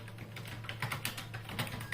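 Quick keystrokes on a computer keyboard at a CT scan workstation while entering image annotations, a steady run of light clicks close by over a low constant hum, with no talking.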